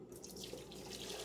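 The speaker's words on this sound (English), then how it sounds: "Get the hot water out of it and get it loaded as well." Hot water is poured out of a glass canning jar at a kitchen sink while canning Yankee bean soup, a brief steady splashing gush, close and fairly quiet.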